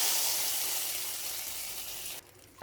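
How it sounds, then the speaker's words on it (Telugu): A tempering of asafoetida and a pinch of turmeric sizzles loudly as it is poured into tamarind-leaf dal. The hiss is a steady broadband rush that cuts off abruptly near the end, leaving a faint quiet tail. "ఇప్పుడు తాలింపు ఈ పప్పులో వేసుకోవాలండి"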